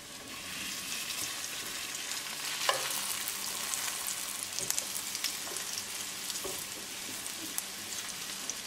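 Breaded chicken thighs frying in oil in a pan over medium heat, a fine continuous crackle and sizzle with scattered sharper pops, close and fairly quiet.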